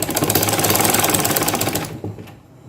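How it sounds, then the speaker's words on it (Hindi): A sewing machine runs steadily, stitching a poncho in a zigzag pattern, its fast needle rhythm loud and close before stopping abruptly near the end, leaving a few faint clicks. "जिस तरह मैंने यहाँ पर इसको सिलाई लगाई है जिगजैग फॉर्म में"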